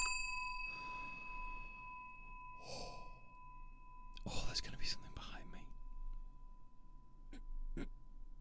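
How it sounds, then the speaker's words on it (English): A bell rings in the horror game Suite 776, a PT-style haunted-apartment game, its sustained metallic tone hanging over whispery, breathy ambience, with louder clanging strikes near the middle and a sharp clang near the end. "Ring the bell."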